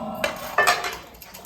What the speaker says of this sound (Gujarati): મૂકી દીધું છે તાવડી, તો ગરમ થવા દો.